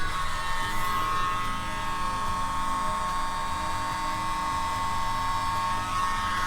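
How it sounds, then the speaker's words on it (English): A steady, high-pitched whine of blown air pushes excess acrylic pour paint across a surface, continuous and fairly loud throughout. "Trying to blow off some of this excess."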